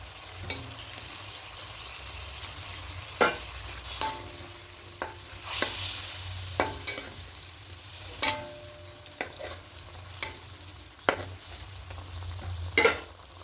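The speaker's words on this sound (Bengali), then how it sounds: "আর একটু জল দেব। এবার মাছগুলো দিয়ে দেব।" Katla fish pieces frying in a pan of gravy for doi katla curry, a steady soft sizzle broken by intermittent clinks and scrapes of a spatula stirring, close and moderately quiet with no talk.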